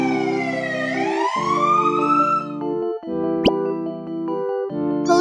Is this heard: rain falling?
no